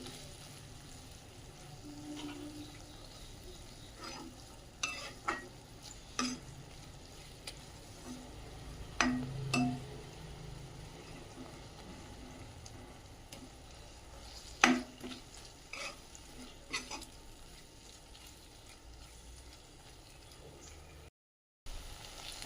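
Ginger garlic paste cooking in a pan for capsicum rice, giving a low, quiet sizzle under intermittent clicks and scrapes of a spoon stirring against the pan, with no voices.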